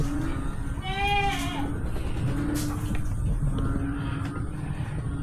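Goats on a farm, including newborn kids, bleat in a few close, wavering calls early on over steady background noise and a low hum.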